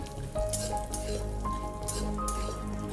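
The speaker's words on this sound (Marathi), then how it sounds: "पुन्हा आपण हे शेंगदाणे तेल टाकून भाजून घेणार आहोत" Peanuts roasting in oil in a pan over low heat, a steady close sizzle with occasional stirring scrapes and light clinks, no voices.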